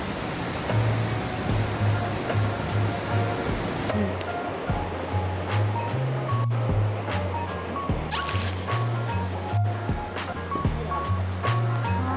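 Constant rushing water fills the scene on a rainy day in Jeju, a loud waterfall cascade blending with the roll of sea waves, steady and close throughout.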